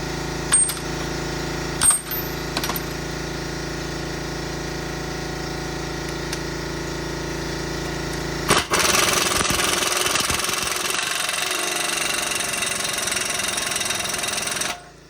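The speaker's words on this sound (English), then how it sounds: "So really we're back to let's put our axle nut on." An axle nut is tightened during a driver-side ball joint replacement on a 2002-2005 GMC Envoy/Chevrolet Trailblazer: a few metallic clinks, then a loud, steady, rattling buzz for about six seconds that stops abruptly.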